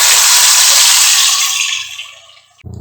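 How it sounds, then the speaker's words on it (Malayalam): Water pours into a mixer grinder jar in a close, splashy gush for about two seconds, tapers off, then gives way to a brief low clatter. "ആ മിക്സിയുടെ ജാറിലേക്ക് കുറച്ച് വെള്ളം കൂടി ഒഴിച്ചു കൊടുത്തിട്ട്"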